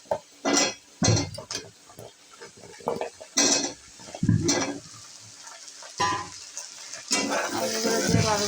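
Potato pieces tossed with onion and garlic in a frying pan for a potato and spinach dish, heard as bursts of scraping and clattering utensil strokes over a soft sizzle, close and fairly loud.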